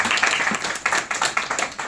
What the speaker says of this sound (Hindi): बात पहुंच जाए तो ताली बजा